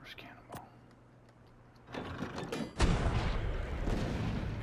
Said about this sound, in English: First cannonball.